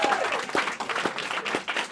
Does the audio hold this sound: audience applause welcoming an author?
yes